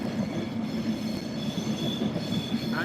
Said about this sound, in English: There's one of the trains coming in, possibly from Glasgow.